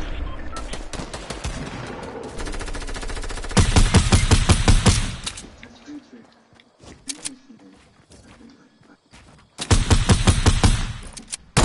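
Call of Duty 4 gunfire: long rapid automatic bursts, loud and close, then a stretch of quieter scattered shots and noises. A final burst of fire comes near the end.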